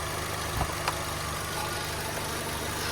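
A Volkswagen Jetta with a 1.6 MPI petrol engine idles steadily close by, a smooth even hum with two faint ticks near the start and no voices.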